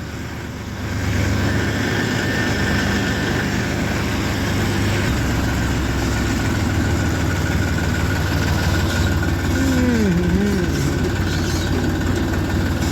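A vehicle hauling sugarcane on a foggy morning runs in first gear, its engine holding a steady low drone throughout with a faint rising whine near the end, close and continuous with no talk.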